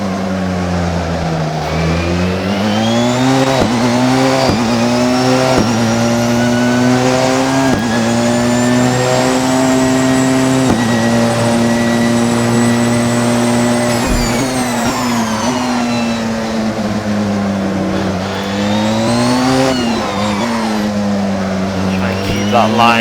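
A Porsche race car engine in the Assetto Corsa video game drones loud and steady throughout, its pitch rising and dipping with repeated revving as the car accelerates and lifts, with brief dips around gear changes.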